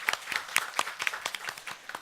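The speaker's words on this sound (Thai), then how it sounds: "ขอเชิญทุกท่านปรบมือต้อนรับอาจารย์ผ่องพันธนาค่ะ" A small seminar audience at a palliative care system session claps to welcome a speaker, producing a brief scatter of close, distinct individual claps rather than a dense roar.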